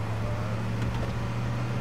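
Steady low engine drone of a car driven in the H1Z1 battle royale game, a constant hum with road noise running evenly throughout and no voices.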